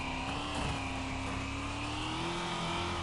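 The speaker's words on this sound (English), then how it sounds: "I do like the sound of the van just because it sounds like a trashy van" A trashy van's engine in the Wreckfest racing game drones steadily at high revs, a continuous buzzing whine that holds pitch with slight rises, moderately loud with no talk.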